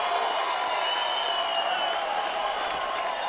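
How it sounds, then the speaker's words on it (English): Broad, steady roar of a large crowd at a bare-knuckle boxing event in Cheyenne, Wyoming, clapping and cheering together between rounds, dense and continuous throughout with no break. "The Cheyenne, Wyoming crowd in unison on their feet."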